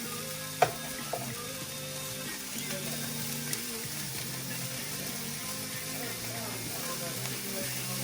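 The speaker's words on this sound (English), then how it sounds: "Now we're going to add the shallot. Move that around, let that flavor get everywhere." Shallot frying and being stirred in a pan, a steady, moderately loud sizzle running throughout with a few sharp clinks of the utensil against the pan early on.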